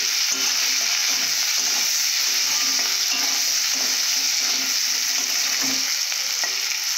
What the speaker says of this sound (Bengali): এইভাবে 2 মিনিটের মতো আমি ভেজে নেব